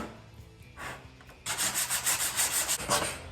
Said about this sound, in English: If you sand down the gun a tad